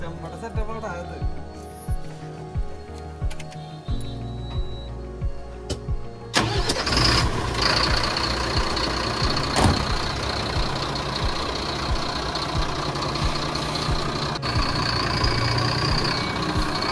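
Bharat Benz 2523 truck engine cranking briefly, then catching and settling into a steady, loud diesel idle, with a person talking over it.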